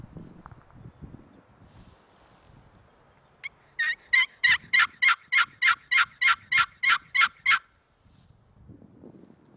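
A wild turkey gobbles in spring Colorado mountain woods, giving a rapid, rattling run of about a dozen evenly spaced pulses. The call is clear and moderately distant over quiet surroundings with faint rustling.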